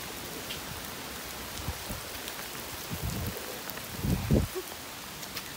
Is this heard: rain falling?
yes